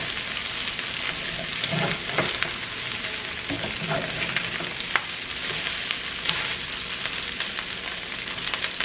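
Fried rice frying in a pan hisses in a steady close sizzle, with occasional spatula scrapes and small clacks scattered throughout.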